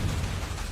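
A Confringo blasting spell going off in Hogwarts Legacy, a short, dense, rumbling burst that fills the brief moment with low-heavy noise.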